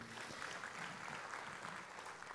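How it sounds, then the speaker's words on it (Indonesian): A church congregation at an Indonesian worship service applauds together, producing continuous, fairly soft clapping from a large crowd, steady in level across the whole stretch. "Kasih tepuk tangan dulu buat Tuhan"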